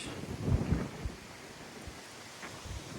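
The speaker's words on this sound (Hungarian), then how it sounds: "Van egy kis kellemes szél" Steady outdoor wind on a rocky hilltop by castle walls near Szögliget, Hungary, buffeting the microphone, with low rumbling gusts early on that fade to a softer continuous rush.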